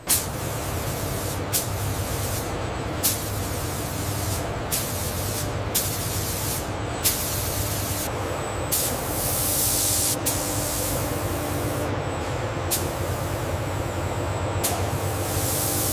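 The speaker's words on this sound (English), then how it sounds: "The viscous matte black RAM compound is pumped toward the robotic nozzle for the PAK FA stabilizer" A pump and robotic nozzle spray a viscous matte black radar-absorbent coating compound onto a Su-57 stabilizer in a factory, making a loud continuous hissing spray with repeated short bursts and pauses across the whole stretch.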